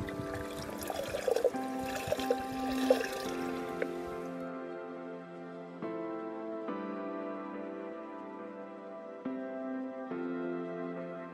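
Water runs steadily into a Nalgene bottle, with a resonant tone that shifts in pitch as it fills; a bright splashing opening settles into a continuous flowing pour.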